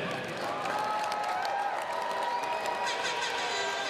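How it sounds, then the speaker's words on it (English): Crowd applause and cheering for two young fighters after an Island Fights bout, a sustained wash of clapping with whoops and crowd noise, moderately distant, with voices mixed in. "Ladies and gentlemen, how about a round of applause for these young men?"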